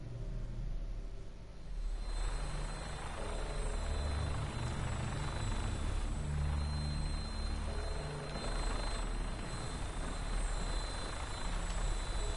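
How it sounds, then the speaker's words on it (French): Brotherhood of Steel Vertibird helicopter in the video game Fallout 4, a steady loud rotor and engine drone that fills the clip with a constant whine on top, close by and heard alone without talk. "on va monter dans le Vertiptère, hein, donc les fameux hélicoptères de la confrérie de l'acier"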